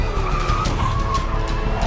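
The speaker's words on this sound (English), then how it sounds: "which was the key given by the car sound effects" A car skidding with tires squealing, used as a sound effect in a film score: a continuous loud screech with wavering pitch, close and sustained throughout, with no voices.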